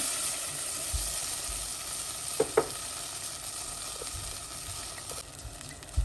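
Canned tomatoes frying in melted tomato paste in a hot pot, with a constant close sizzle and a couple of brief stirring clanks.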